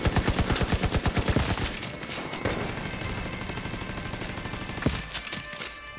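Rapid automatic turret fire in The Division 2, a dense rattling burst of evenly spaced shots up front that gives way to continuous combat noise with scattered sharp cracks, loud and close.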